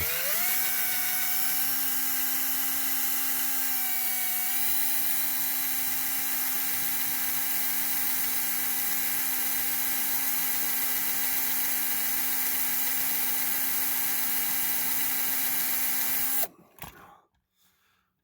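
A power drill whirs continuously at close range, backing out hefty screws from a large-scale Corgi Starsky and Hutch Ford Gran Torino toy, its motor pitch steady before it stops abruptly near the end with a couple of faint clicks.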